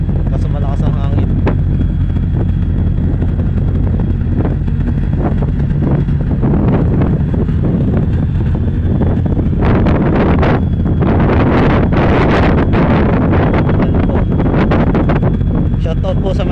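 Loud, constant wind buffeting the microphone at sea aboard a ship, with gusty rushing bursts and some indistinct talking under the roar.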